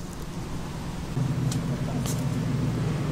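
A Rover SD1 with its 3.5 litre V8 idling at a classic car show, a low rumbling burble that thickens partway through, heard amid outdoor crowd ambience.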